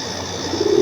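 Young Jan Aarden racing pigeons in a loft give a single soft coo that rises briefly near the end of a short stretch of steady background noise.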